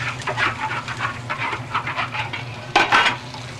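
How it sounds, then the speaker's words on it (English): A wok is scraped and scrubbed with hot water in a steady run of rasping metallic strokes, close up, ending in a sharper clatter. "Just follow this occasion and see how we clean the wok."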